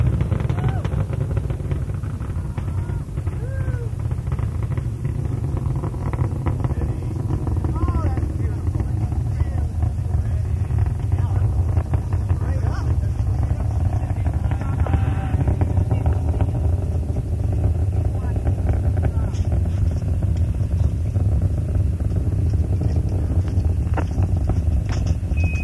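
Space Shuttle Endeavour's engines roar steadily through the ascent of the STS-47 launch, a continuous, heavy, distant rumble that never lets up, with faint radio voices underneath.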